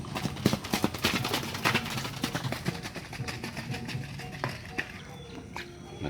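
Racehorses train on a dirt racetrack in Sumedang, and their hooves strike the ground in an irregular clip-clop that shifts from near to far. Someone talks quietly now and then over the hoofbeats.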